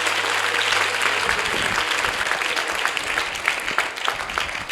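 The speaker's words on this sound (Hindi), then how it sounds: "ताली बजा के प्रभु को धन्यवाद दे" A congregation at a youth camp sermon claps together to thank God, producing loud, dense, continuous applause from a crowd that keeps up throughout.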